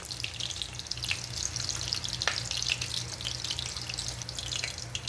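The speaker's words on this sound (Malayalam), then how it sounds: "ചിക്കൻ ബർഗർ നമുക്കൊന്ന് ഫ്രൈ ചെയ്തെടുക്കണം" Chicken burger patties frying in butter in a pan, a loud continuous sizzle and crackle with fine spattering pops, close up and steady throughout.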